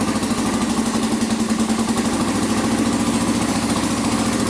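A Kawasaki 4x4 ATV engine idles while warming up, with the choke partly off. It gives a loud, steady, even chug that is close and continuous, with no voices.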